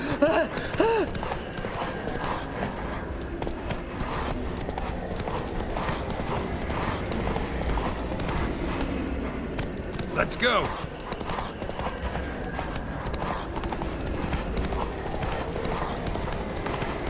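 Roach the horse gallops in The Witcher 3, steady rapid hoofbeats running throughout with a brief whinny near the start, while voices talk over the game sound.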